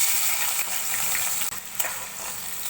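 Onions lightly frying in a pan make a dense, continuous hiss and crackle, close and fairly loud, with a brief dip midway.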